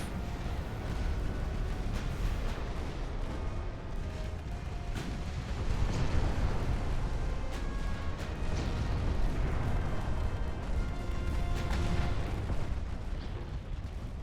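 Warship guns fire through a naval battle in Ultimate Admiral: Dreadnoughts, with repeated heavy booms layered over a dense, continuous rumble of distant gunfire and sea noise.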